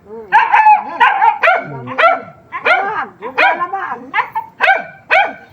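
A dog barks repeatedly in quick, yappy bursts, close and loud, with a few whiny notes mixed in.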